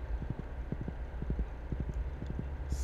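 Horse hooves in the video game Stardew Valley clip-clop quietly in quick, regular pairs of taps against a low steady background hum.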